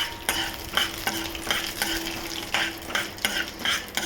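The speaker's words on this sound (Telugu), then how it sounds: "మెంతి కూర పప్పు ఉంటుంది కదా, అది ఇందులో వేసేసి ఒకసారి కలిపేసుకోండి" Fenugreek leaf dal is stirred into a frying tempering, with a steady sizzle under repeated scraping and clinking strokes of a spoon against the pan.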